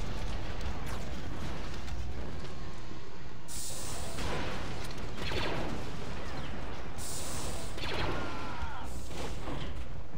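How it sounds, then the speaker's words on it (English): Rocket launcher blasts from the Star Wars Battlefront 2 video game, played on a modded space map around the planet Tython: a loud, continuous barrage of booming explosions and rumbling impacts, with no voices. "Now let's start blowing it up with our rocket launcher"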